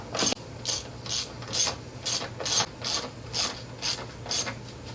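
A ratchet tightens the strut top nuts on a 2000 Volvo S40, giving about ten short, evenly spaced bursts of rapid clicking, close and clear.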